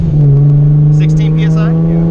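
A turbocharged R33 with an RB25 engine accelerating on the road, a loud steady engine drone heard from inside the car, with turbo whooshes and hissing rising over it partway through.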